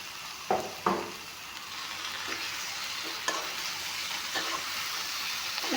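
Tomatoes frying in a pan for mutton curry after the meat has been fried dry: a steady soft sizzle with a few stirring scrapes near the start and scattered spatula taps.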